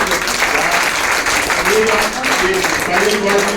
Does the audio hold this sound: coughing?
no